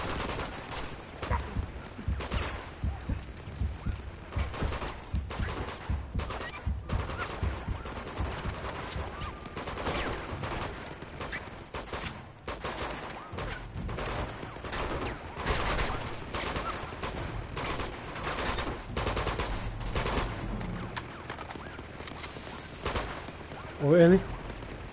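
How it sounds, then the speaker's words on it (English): Battle gunfire in Uncharted 2: Among Thieves, a dense crackle of repeated shots and volleys continuing for the whole stretch at moderate loudness, with someone briefly talking near the end. "The fuck is shooting me?"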